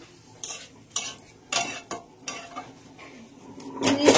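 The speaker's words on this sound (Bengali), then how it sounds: "পুঁই শাকটা জল টল দিয়ে সব কিছু মশলা দিয়ে বসিয়ে দিলাম" Malabar spinach (pui shak) cooks in a pot with water and spices, stirred with repeated rhythmic utensil scrapes and knocks against the pot over a soft simmer, growing louder at the end.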